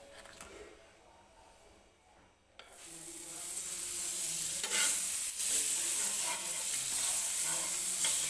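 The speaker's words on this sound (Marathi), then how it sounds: "बटर जे आहे ते मी या नॉनस्टिकच्या तव्यावरती लावून घेते" Butter melting on a hot nonstick tawa for pav bhaji, with quiet handling at first, then a sudden loud, steady sizzle that continues close up to the end.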